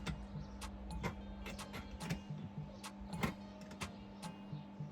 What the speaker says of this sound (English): I have a bit and I'm pushing the screw in so it won't spin